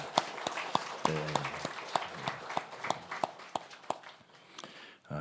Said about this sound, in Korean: 네, 박수로 우리 하겠습니다.